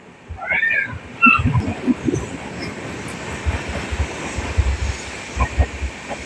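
A train arriving at a railway station, a low rumble rolling steadily throughout, with a cat meowing briefly near the start.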